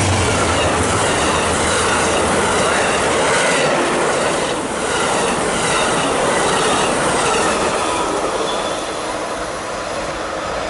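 Amtrak train PO29 with locomotive 822 leading and D8 unit 504 trailing roars past close by, loud and continuous, with rumbling wheels, rail clatter and some squeal fading slightly toward the end.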